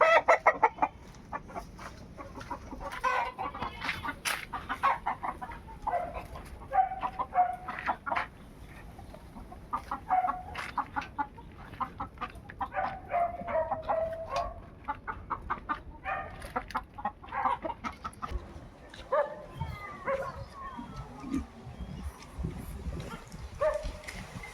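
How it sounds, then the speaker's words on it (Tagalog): Fighting roosters kept at a farm in Imus, Cavite, cluck and crow repeatedly, several birds calling close by in irregular bursts over a low outdoor background. "Maraming panabong na manok dito si papa."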